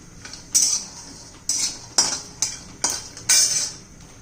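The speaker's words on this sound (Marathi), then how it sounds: "आता खोबरं शेंगदाणा आणि जिरं ते छानच पैकी आपण असं भाजून घेऊया" A spoon or spatula scrapes and taps against a pan while coconut, peanuts and cumin dry-roast, giving six sharp metallic strokes at a steady pace with quiet gaps between them.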